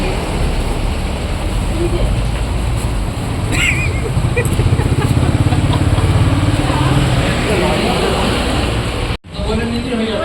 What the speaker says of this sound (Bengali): প্রচণ্ড গাড়ির আওয়াজ